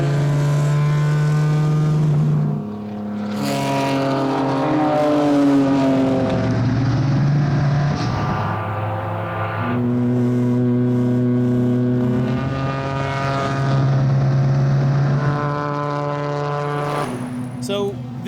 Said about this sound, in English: That fucking exhaust is everything, bro.